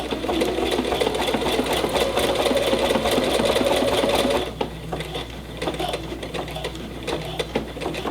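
Sewing machine stitching the end of a buttonhole, a steady, fast mechanical whir and needle patter running loud for about four seconds, then stopping and giving way to quieter clicks and handling.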